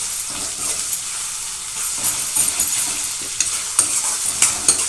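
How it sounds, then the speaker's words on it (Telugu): Spice powders, chili, turmeric, salt and garam masala, frying in oil for a mutton fry, a loud steady hissing sizzle with frequent scraping stirs close up. "పచ్చివాసన వేయకి ఇలా నూనెలో వేపుకుందామండి,"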